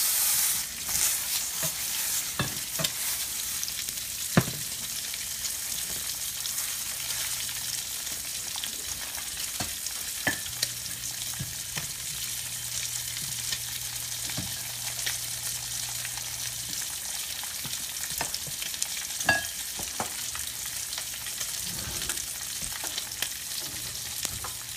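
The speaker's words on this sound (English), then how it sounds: "go ahead and stir your gorgonzola cream sauce" Gorgonzola cream sauce sizzling and bubbling in a pan while it is stirred, a continuous close frying hiss with occasional sharp pops and clicks of the utensil across the pan, no talking.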